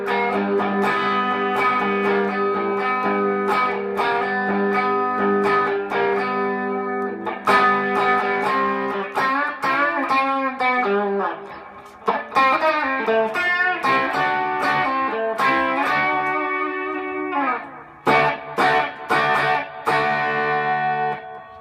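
An electric guitar played through a pedalboard with compression, a boost, light reverb and a short delay, giving a semi-dirty, Vox-like tone; chords ring out, then choppy strummed phrases follow, with no talking.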